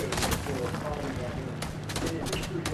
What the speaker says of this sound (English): I'm being shot from somewhere else too